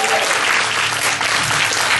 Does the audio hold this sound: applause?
yes